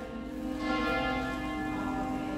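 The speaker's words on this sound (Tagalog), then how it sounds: "Nagdiring yung bell." A church bell rings steadily at a medieval castle, a rich sustained peal with layered overtones that swells slightly after the first half second and hangs in the air without any voices.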